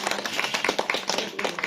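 An audience claps for a young college student acting at a village stage drama, a dense, continuous patter of many hands.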